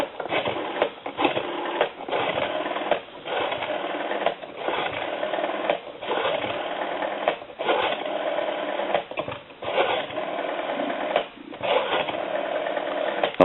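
Rapid mechanical clicking and whirring repeats in short bursts with brief gaps as an ITT rotary telephone dial spins back over and over, close and steady.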